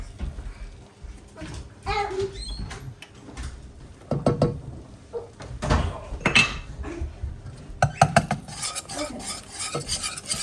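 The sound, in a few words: mixing flour into a paste in a pot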